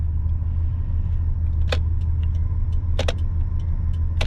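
1979 Cadillac Deville engine idling smoothly, heard from inside the car as a steady low rumble, with a few soft clicks and jingles over it.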